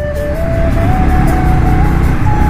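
A Yamaha MT 15 motorcycle climbs a steep hill road near Darjeeling and Kurseong in third gear, its engine a loud, steady drone close by with the pitch creeping upward as it pulls.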